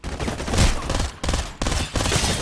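Rapid bursts of automatic gunfire from the shooter video game Farlight 84, loud and close, in three or four dense volleys separated by brief gaps.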